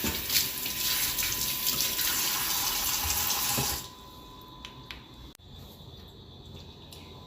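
Kitchen tap running while chicken is washed: a loud, steady stream of water splashing into a sink for about four seconds, then it stops, leaving faint drips and small handling sounds.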